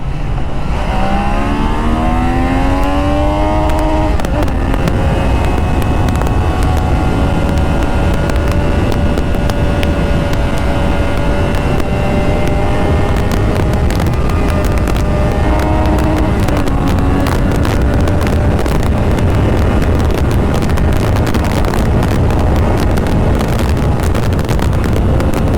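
A Triumph Daytona 660 sport motorcycle cruising on an open road, its engine note rising and falling through gear changes under heavy, constant wind roar buffeting the microphone.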